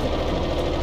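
A helicopter engine in the Stormworks video game, throttled down while landing on a ship: a steady, dense mechanical drone with a knocking texture, continuous and close for under a second.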